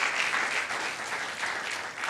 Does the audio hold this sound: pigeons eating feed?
no